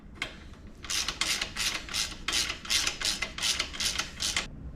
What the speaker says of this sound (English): Now we'll tighten these 2 bolts up top.